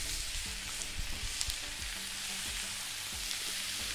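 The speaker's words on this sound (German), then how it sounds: "Und dann lassen wir das Ganze ein wenig brutzeln." Onions frying and sizzling in oil in a pan, seasoned with a Mexican spice blend, giving a steady dense crackle with soft stirring scrapes throughout, close up and with no talking.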